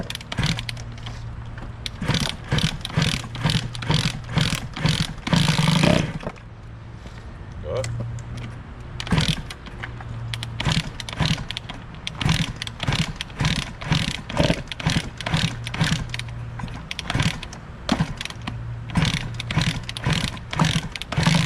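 A 2003 Kawasaki KX60 mini dirt bike getting kick-started with the choke on, with repeated ratcheting kicks and a low mechanical thrum that comes and goes, close and loud, while someone talks.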